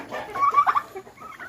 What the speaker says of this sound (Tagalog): Mga pabo guys.